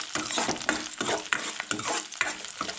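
Garlic, ginger and curry leaves frying lightly in a pan for a Goan chana masala, a steady close crackling sizzle with stirring scrapes recurring through the short stretch, no voices.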